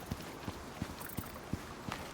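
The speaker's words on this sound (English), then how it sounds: "Oh, we got a horse on the island." A horse's hooves clip-clop in the survival video game Icarus, six or so evenly spaced, soft thuds at a steady walking rhythm over a faint background hiss.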